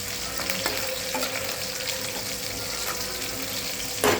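Steady sizzling and bubbling of squid frying in a pan, continuous and close, with a faint clatter near the end.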